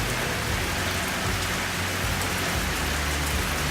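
Steady, heavy rain pours down in a constant dense hiss, close and loud, with a faint low rumble underneath.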